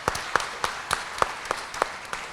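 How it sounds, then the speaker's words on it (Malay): Steady rhythmic applause from an audience at a Malaysian appointment and accreditation ceremony, evenly spaced claps at moderate volume with no talking. "beri tepukan kepada Datuk Abang."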